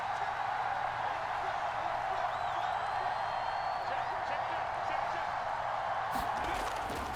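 A Kansas City home stadium crowd in an American football video game keeps up a constant, dense roar of cheering, with commentary running over it.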